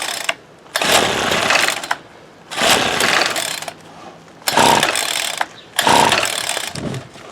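A Ryobi SS30 gas string trimmer engine revs in four loud, rasping bursts. Quieter, sputtering idle gaps separate them, close by with no talking.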